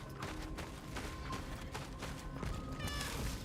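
A cat meows within the game Cronos: The New Dawn, a few brief cries rising over a busy, steady bed of game ambience and effects with no talk.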